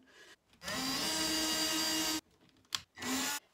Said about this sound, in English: when I'm drilling, I drill in, then I reverse the direction of the drill, and I drill it back out